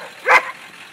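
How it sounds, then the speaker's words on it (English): A single sharp bark from a guard dog outdoors on a street, brief and fairly close, standing out against a quiet background hum. "So here's the guard dogs."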